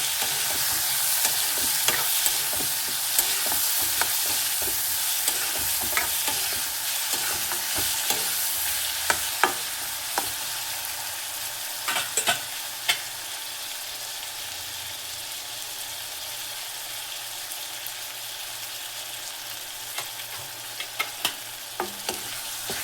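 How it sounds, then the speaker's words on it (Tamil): Chopped tomatoes with a little salt are stirred and sautéed in a pan for a Tamil vathal kuzhambu, giving a steady close sizzle broken by frequent soft scrapes and taps of the spoon against the pan. "தக்காளியோட கொஞ்சம் உப்பு சேர்த்து வதக்க போகிறோம்"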